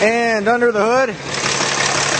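A 2009 Dodge Ram 3500 pickup idles with the hood open, giving a steady, even engine hum close by. It starts as someone briefly speaks and then continues on its own.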